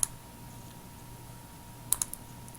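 A computer mouse gives a sharp, close click at the start, then a quick cluster of two or three light clicks near the end, over faint room noise.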